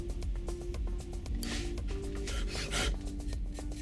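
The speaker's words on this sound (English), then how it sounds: "The unhardened file is then further reduced to whatever final profile is desired, again using files and abrasive stones." Hand file rasping on unhardened iron while shaping a file by hand, a series of close, gritty scraping strokes, one longer stroke standing out, with no talk.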